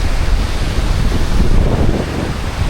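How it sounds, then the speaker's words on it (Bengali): Ocean waves roll and break steadily on the shore at Guliakhali sea beach, a continuous roaring wash mixed with wind buffeting the microphone. "এই যে ঢেউ পিছনে দেখুন কিভাবে ঢেউ আসতেছে"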